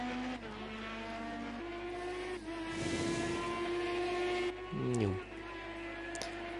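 Indy car racing at Road America in Project Cars 2, a sustained engine whine with a rushing whoosh midway and a quick falling-pitch pass near the end, mixed with a faint background voice.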